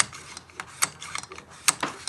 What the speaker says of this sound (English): it's got like a loomy sound, hasn't it?